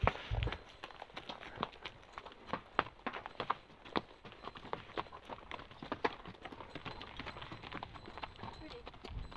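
Horse hooves clip-clop on a trail in Uwharrie National Forest during a horseback ride, an irregular walking rhythm of soft thuds, faint and steady, with people talking now and then.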